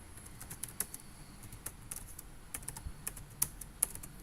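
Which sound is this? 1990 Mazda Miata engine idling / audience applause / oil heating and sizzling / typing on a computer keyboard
typing on a computer keyboard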